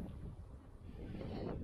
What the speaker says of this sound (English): A little windy, but the temperature's not too bad.